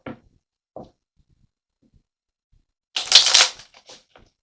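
Tarot cards being shuffled and drawn, a couple of faint soft flicks followed by a brief louder riffle of cards close by, then quiet.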